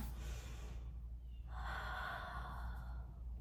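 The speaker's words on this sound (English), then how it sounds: "Inhale, exhale. A big full body breath." Deep, slow breathing during a Pilates mat exercise, a long airy exhale swelling through the middle of the stretch over a steady low hum, close and fairly quiet.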